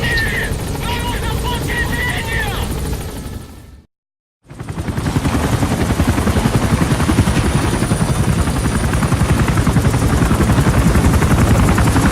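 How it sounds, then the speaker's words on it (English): A support helicopter's loud, steady rotor roar in the video game Metal Gear Solid V fills the scene, briefly cut by a half-second of silence, then thumping on strongly and close. "Support helicopter has arrived."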